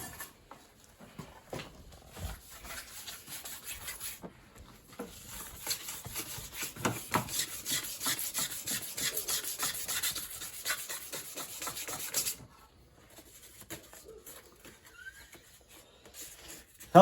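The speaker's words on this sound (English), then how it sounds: "Helps to use the right side of the 1500 grit sandpaper." A Damascus katana blade is sanded by hand with 1500 grit sandpaper, making faint, soft rubbing strokes in a steady back-and-forth rhythm that stop briefly near the end.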